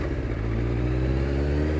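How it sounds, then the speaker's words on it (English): A Suzuki GSXR 600 K3 motorcycle with a clunky gearbox runs close and loud, its engine holding a steady droning tone with a brief change as a gear shifts early on. "gearbox is a bit clunky"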